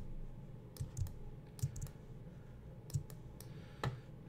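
Computer mouse clicks while working in Autodesk Fusion CAD software; about eight faint, sharp clicks come singly and in quick pairs over a quiet room hum.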